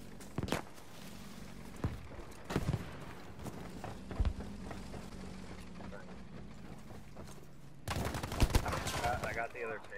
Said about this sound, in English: Someone's taking pot shots at me